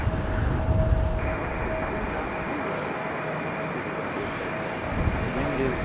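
A United Airlines airliner at Raleigh-Durham airport gives a steady engine whine and broad rumble, moderately distant, with a voice talking over it and gusts of wind.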